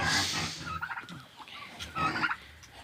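Turkeys gobbling in a village farmyard as turkeys and ducks come out of a barn, several loud gobbling bursts close by with short pauses between.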